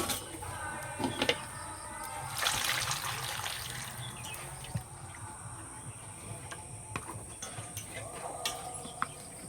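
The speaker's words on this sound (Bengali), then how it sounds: "আমগুলো পরিষ্কার করে ধুয়ে নেব।" Mangoes being washed in water in a home kitchen, with a few splashes and a sloshing burst near the start, then quieter trickles and small drips over a faint steady background hum.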